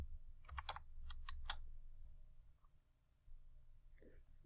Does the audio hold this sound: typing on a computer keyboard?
yes